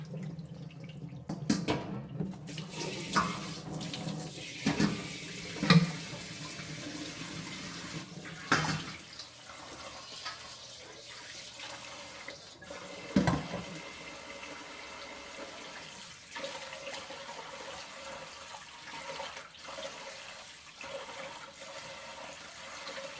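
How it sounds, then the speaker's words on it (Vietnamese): Vermicelli noodles get rinsed under a running kitchen tap, water streaming and splashing steadily with occasional louder sloshes and bumps of handling, close by and with no talk. "This is my second rinse."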